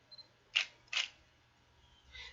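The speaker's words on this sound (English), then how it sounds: "So you can physically hear what your shutter speed is." A camera shutter firing at a slow shutter speed: two sharp mechanical clicks about half a second apart, close and clear in a quiet room, followed by a softer click.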